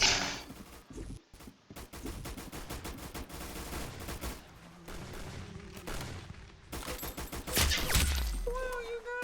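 Rapid gunfire in the Roblox game Arsenal, dense bursts of shots and impacts over game sound, fairly quiet overall, with some voices mixed in.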